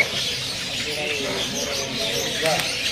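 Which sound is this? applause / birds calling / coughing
birds calling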